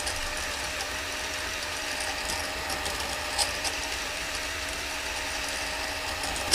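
Honing stones run steadily in and out of a Hayter lawnmower cylinder bore, giving a continuous close mechanical whir and grind with a faint ratcheting texture, constant in level and with no talk.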